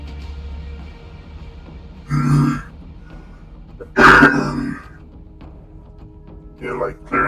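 Several short, throaty throat-clearing bursts come in separate bouts, close to the mic, against a quiet indoor background.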